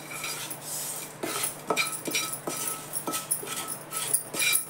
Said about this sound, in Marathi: तेल गरम आहे तोपर्यंत उलटण्यानं चमच्याने हलवायचं